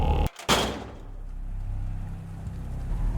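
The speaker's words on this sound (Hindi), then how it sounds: "अचानक हवा के एक झोंके ने एक दरवाजे को बंद कर दिया, जिसकी आवाज सन्नाटे में गूंज उठी जैसे बंदूक चल गई हो" A gust of wind slams a door shut in an old haunted mansion, one loud, sharp bang at the start that trails into a low, rumbling drone.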